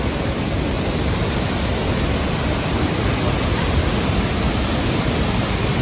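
Paterson Great Falls in New Jersey pours in a constant, loud, close roar of falling water, unchanging and with no other sounds.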